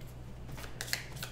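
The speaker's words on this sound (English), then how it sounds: "This should get shuffled." Cards are shuffled for a Kingdom Death board game, a brief, faint riffle of crisp flicks against a quiet room hum.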